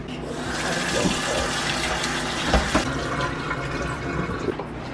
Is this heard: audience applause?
no